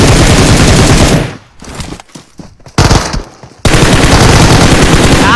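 Dense automatic gunfire from a shooter video game, long rapid bursts broken by short gaps, loud and close, with no talking over it.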